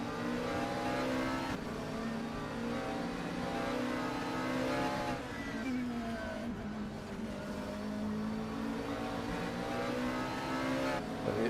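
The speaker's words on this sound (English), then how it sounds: "sound of that McLaren" A McLaren race car's engine wails steadily throughout a race, holding a strong, continuous tone with slight rises and falls in pitch as it accelerates, loud and close over commentary-free track noise.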